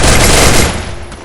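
Pistol gunfire in a multiplayer battle-royale style video game, a dense loud burst of shots in the first half that fades into a quieter tail.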